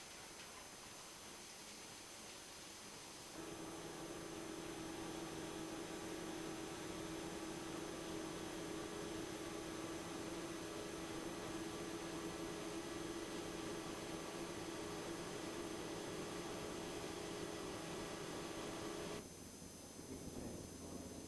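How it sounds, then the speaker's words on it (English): FLS Atox vertical roller mill running and grinding raw material, a steady industrial drone with a sustained hum starting a few seconds in and cutting off near the end, no voices. "After the main motor has started, the feed system is also activated."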